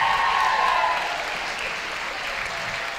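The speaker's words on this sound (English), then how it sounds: "give a warm round of applause to Olive and Morris" Warm audience applause at a local Strictly-style dance competition in Silvermines, a dense steady clatter of many hands that swells loud at first, then settles slightly and carries on without a break.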